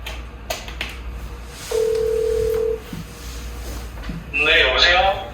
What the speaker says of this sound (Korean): 사연자분께 직접 전화 연결을 해보도록 하겠습니다.